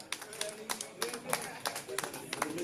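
Scattered clapping from an audience at a book-signing evening, sparse and fairly faint hand claps in an uneven rhythm with voices talking underneath.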